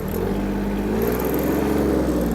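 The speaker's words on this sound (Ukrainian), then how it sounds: "Гарна, чиста робота двигуна." The diesel engine of a Yanmar AF-120 mini tractor idles steadily nearby, a constant low chugging drone that holds even throughout with no voices.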